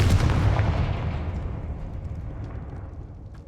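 A Confringo spell explosion from Hogwarts Legacy: one loud, close, booming blast that hits hard at the start, then rumbles and fades over several seconds, with no voices.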